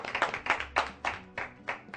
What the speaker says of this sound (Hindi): एक बार जोरदार तालियों के साथ मीना जी का